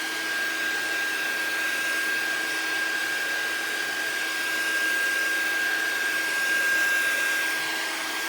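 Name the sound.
dryer and heater drying paint for heat setting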